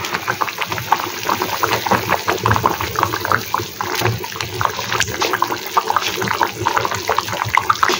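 Water poured into a pot of muri ghonto, a Bengali fish-head and rice dish cooking on the stove, giving a steady close splashing and trickling with scattered clinks and no talk.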